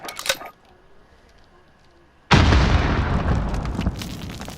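A tube launcher fired in Modern Warfare: a sharp pop near the start, a quiet stretch, then a loud sudden blast that rolls on as a sustained rumbling roar.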